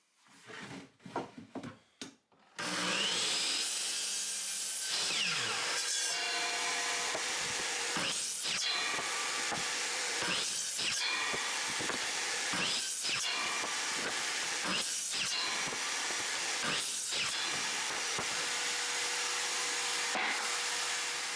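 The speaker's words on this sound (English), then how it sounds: "Using a stop block, I cut 6 9-inch cuts on the newly planed down 2x4." A power saw, used with a stop block, cuts a freshly planed 2x4 board into short pieces. A few quiet knocks come first, then a loud, sustained whirring roar runs on, broken by repeated sharp cutting bursts at regular intervals.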